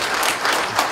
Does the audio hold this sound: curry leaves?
no